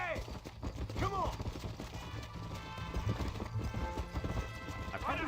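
Horse hooves clip-clop at a steady canter in the Red Dead Redemption video game, a continuous rhythmic clatter mixed with whinnies and speech.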